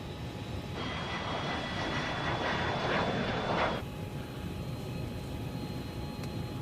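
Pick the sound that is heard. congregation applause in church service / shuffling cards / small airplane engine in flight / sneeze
small airplane engine in flight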